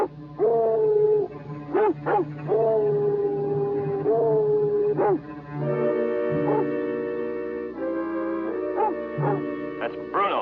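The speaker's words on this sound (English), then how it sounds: "That's the dog." A dog howls on a snowy mountain ski slope, long wavering howls rising and falling across several cries, clear and sustained, with some background tone underneath.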